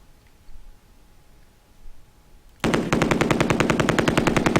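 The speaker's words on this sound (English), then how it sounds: "Alright, heavy machine gun." Heavy machine gun firing in a tank combat video game: after a quiet stretch, a loud sustained burst of rapid, evenly spaced shots begins and keeps going.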